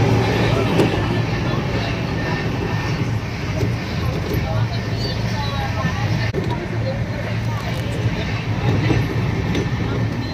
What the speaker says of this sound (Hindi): हमारी ट्रेन 8:44 पे हजरत निजामुद्दीन से मुंबई के लिए निकल चुकी है